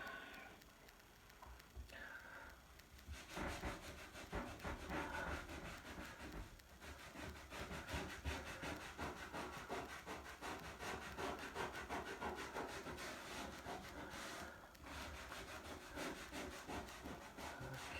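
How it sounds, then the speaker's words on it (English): A scouring pad rubs back and forth over a wood surface marked by white moisture residue, producing a continuous close scratchy scrubbing with steady rhythmic strokes and a few brief pauses. "I'll hit it with the scouring pad."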